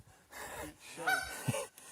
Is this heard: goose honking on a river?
yes